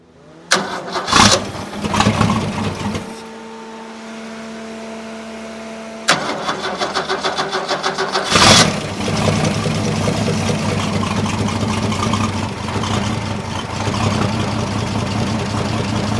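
A Holden 202 engine is cranked with a couple of short starter bursts and brief pauses, then catches and settles into a loud, steady running rumble close by for the rest of the stretch.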